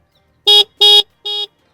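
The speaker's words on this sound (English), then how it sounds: "and the horn, which sounds like this." Horn of a Revolt RV1+ electric motorcycle sounding three short, loud, close beeps, the last one slightly quieter, with brief gaps between them.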